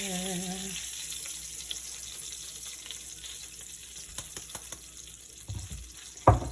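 Flour hitting hot oil and frying for homemade enchilada sauce, a soft steady sizzle with scattered scraping and clinking of stirring that grows louder toward the end.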